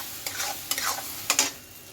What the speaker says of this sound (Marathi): पालक प्युरी टाकायची सगळी आणि ती मिक्स करायची, चांगलं मिक्स करून घेऊ